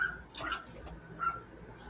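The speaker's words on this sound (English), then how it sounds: "That's why the dogs are going nuts." Dogs bark and yip somewhere nearby in short bursts, two main barks about three-quarters of a second apart, set against a low steady background hum with no talk.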